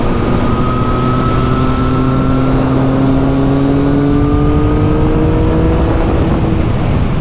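A 2023 Triumph Street Triple 765RS motorcycle fitted with a RapidBike Evo module accelerates hard, its engine note rising steadily in pitch through a gear, loud and close with heavy wind rush.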